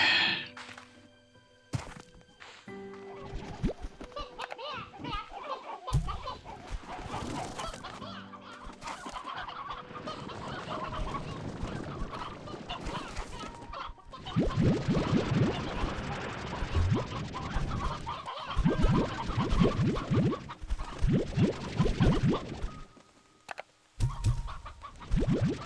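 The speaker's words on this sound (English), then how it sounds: "And chickens." Chickens clucking, repeated short clucks and rising squawks mixed with mechanical clicks, ratcheting and thunks, fairly close and continuing throughout with uneven loudness.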